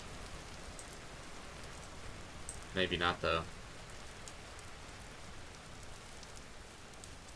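Rain falls steadily in the survival game Vintage Story, a faint, even hiss that runs throughout, with a brief spoken remark in the middle.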